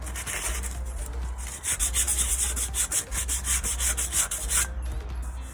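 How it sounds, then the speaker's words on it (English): An old M1 steel helmet being sanded by hand, steady rhythmic back-and-forth rasping strokes, close and fairly loud, with a brief pause partway through. "let me sand that down"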